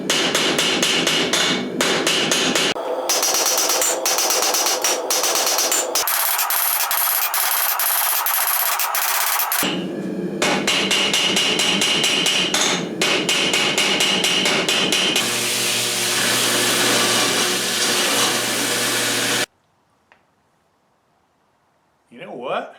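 Hot copper and steel billet hammered by hand near forge-welding heat: loud, rapid metallic hammer blows in steady bursts for most of the stretch, then a sudden drop to near silence.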